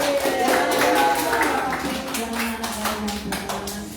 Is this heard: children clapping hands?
yes